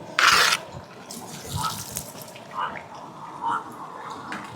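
Water splashes and trickles in short bursts with a louder gush at the start, poured nearby while cooking outdoors in a field, amid background noise.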